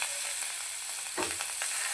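Spices of chili and coriander sizzling in hot oil in a pan for a mutton masala, a close, steady frying hiss with a brief stir-like burst midway.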